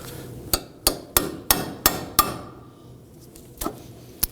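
A hammer taps a ball joint into the steering knuckle of a 2005-2009 Subaru Legacy: six sharp, evenly spaced metallic strikes close by, a pause, then two more taps.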